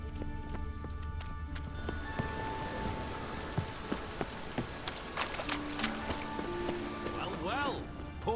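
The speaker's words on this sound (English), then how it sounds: "It just rains and rains." Rain falling in The Witcher game world, a constant dense patter on surfaces throughout, with hoofbeats and other scattered clicks and tonal game sounds over it and a voice speaking partway through.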